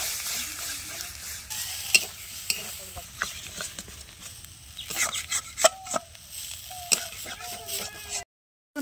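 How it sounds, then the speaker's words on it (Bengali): Bottle gourd leaf paste being stirred into spices in a pan, with a soft sizzle under repeated scraping and spatula knocks at an irregular rhythm, close up, ending in a brief silence. "দিয়ে ভালো করে সুন্দর করে মিশিয়ে নেওয়া হচ্ছে।"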